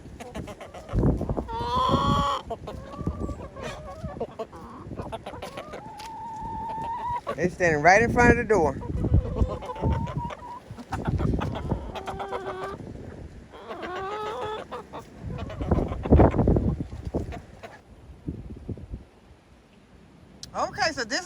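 Chickens clucking and calling inside a chicken house, close and fairly loud in repeated bursts, with someone talking over them at intervals.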